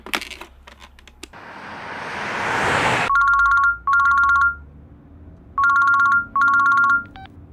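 A mobile phone ringtone plays in four short repeated electronic bursts with brief gaps, following a few clicks and a rising rush of noise, loud and close with no voices.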